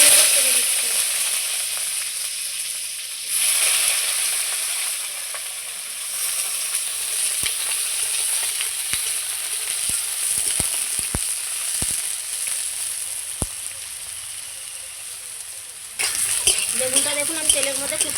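Eggplant pieces fry in hot mustard oil, a continuous bright sizzle with scattered sharp pops and a few utensil taps, swelling louder at the start and again near the end.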